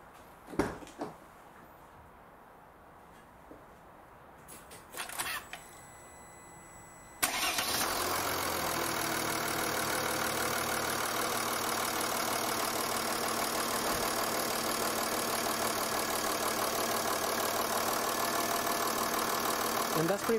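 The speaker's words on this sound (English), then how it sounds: "I'm just going to start the car now." A few clicks and a crank, then a 2012 Mercedes S350 BlueTEC W221 diesel engine catches and settles into a loud, steady idle that runs to the end.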